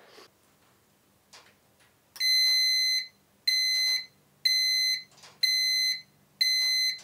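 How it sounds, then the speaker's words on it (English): A heat treat oven's temperature controller alarm sounding on reaching its target, five loud shrill electronic beeps of about a second each in a steady repeating pattern, preceded by faint clicks and a low background hum. "the alarm goes off when it hits that"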